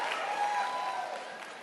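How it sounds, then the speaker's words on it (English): Audience applause at a stand-up comedy show: dense, steady clapping from a crowd that holds level, then thins slightly toward the end. "why y'all stop clapping?"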